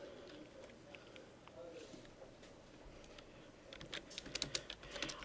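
A computer keyboard clicks faintly under a person's speech, with soft scattered keystrokes that grow into a quicker, louder burst of typing toward the end.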